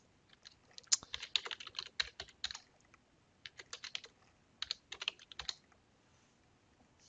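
Keys clatter on a computer keyboard as a school email address is typed, in quick irregular bursts with short gaps, close but fairly quiet.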